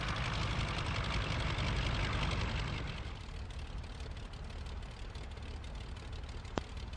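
The engine of a La-5 fighter plane idles in a flight simulator, a steady low throbbing drone that stays constant, then drops slightly in loudness partway through, with no talk.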